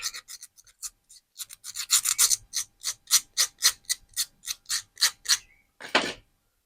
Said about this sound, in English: And don't forget to smoothen the wire.